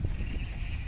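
A horse or foal at Granja Pelumpen farm in Olmué, Chile, with close, steady clip-clop hoof steps and low rumbling movement filling the whole second, no voices.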